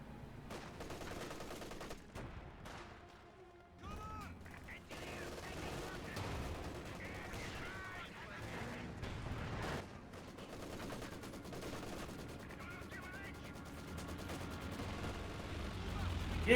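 Battle sounds from Company of Heroes 2, with a Soviet Maxim machine gun and anti-tank guns firing in bursts and heavy booms through a busy, continuous fight, partly under a commentator's voice.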